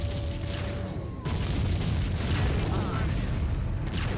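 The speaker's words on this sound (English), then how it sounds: "But the artillery here is helping out." Artillery fire in the Empire Earth strategy game, a dense, continuous rumble of booms and bursts with tanks in the battle, loud and steady throughout with a brief lull near the middle.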